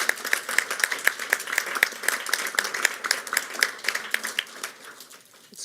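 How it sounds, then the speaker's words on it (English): An audience at a Baltimore City Public Schools event claps for fundraising volunteers, distinct individual claps close by over a thinner crowd patter, thinning out near the end. "let's have a big round of applause for those who worked so hard"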